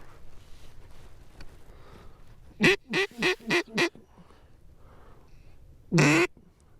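Ducks quack nearby: a quick run of four harsh quacks, a pause, then one louder quack, over a low wind-like rumble.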